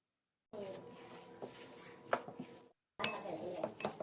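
A spoon stirs sprouts cutlet mixture with salt, turmeric and chopped green chilli in a bowl, producing close, soft scraping and clinking in short uneven bursts separated by brief pauses.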